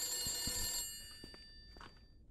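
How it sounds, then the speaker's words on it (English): Telephone bell ringing in the horror game The Beast Inside, a bright metallic ring that fades out, then a few soft thuds and clicks at low level with no talking. "That phone's been ringing for like 30 minutes already."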